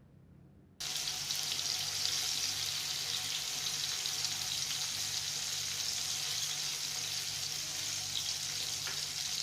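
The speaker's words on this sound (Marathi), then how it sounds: "तेल व्यवस्थित गरम झाल्यानंतर आपण त्यामध्ये ॲड करतोय लसूण आणि टोमॅटो." Garlic and tomatoes in hot oil give a steady, loud, broadband sizzle that starts abruptly after a short quiet moment and continues evenly to the end.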